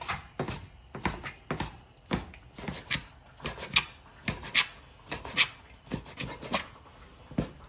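A knife chops lamb into very thin slices on a board in a home kitchen for a Chinese lamb and cabbage dish, a steady run of quick, close, crisp cuts in short bursts with brief pauses.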